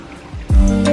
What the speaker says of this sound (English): You can hear the water trickling.